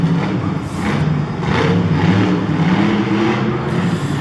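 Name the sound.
Max D monster truck engine revving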